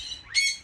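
A single sharp, bright squawk from a bird in an aviary at a bird sanctuary in botanical gardens, rising quickly and close by, with no talk.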